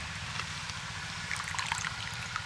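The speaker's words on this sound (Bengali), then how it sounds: "এবার আমি এরকম একটা ছিদ্রযুক্ত থালা নিয়েছি এর মধ্যে দিয়ে দেব জলটা ঝরে যাবে" Water drains from soaked green peas through a perforated plate, a close, continuous trickling and dribbling with small splashy bursts.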